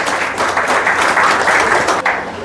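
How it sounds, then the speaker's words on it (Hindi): Loud, full applause from a gathered audience at a birthday celebration programme with dance and song, continuous dense clapping that dips briefly near the end. "तो एक बार जोरदार तालियां अपने लिए बजा दो।"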